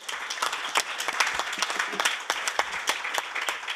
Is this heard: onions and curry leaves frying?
no